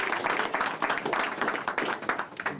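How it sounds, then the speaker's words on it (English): An audience at the opening of a community center's teen center breaks into continuous clapping, a dense, close wash of hand claps that holds for a couple of seconds. "Let's give Kiki a round of applause."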